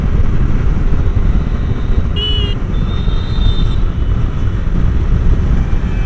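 A steady, smooth engine drone with heavy wind rush from a Hero Xpulse 200 motorcycle cruising at about 80 on an open highway.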